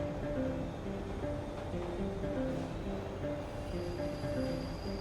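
Continuous rumble of a subway train ride in a video game, loud and close, with repeating short tonal whines riding over the rolling clatter and no voices.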